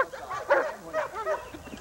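Dogs bark and yip in a few quick, close, moderately loud bursts, with a whiny edge between the yelps.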